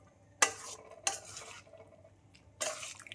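Pasta being stirred in a pan with vegetables, three short scraping, clattering bursts of utensil against pan over a faint low background.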